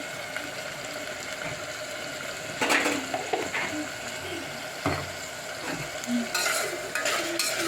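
Salted tomatoes cook down in a pan for a chicken curry, with a low steady sizzle and intermittent louder bursts of stirring and scraping close by.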